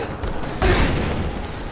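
Suppressing gunfire in Rise of the Tomb Raider: a heavy booming burst breaks out partway through, then a dense, sustained roar of shots and rumble fills the rest, fairly loud.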